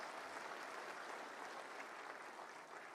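An audience applauds girls who won prizes, among them a third-prize winner from Mirzapur, at a plantation drive event in Lucknow: dense, even clapping from a crowd, distant and soft, without a break.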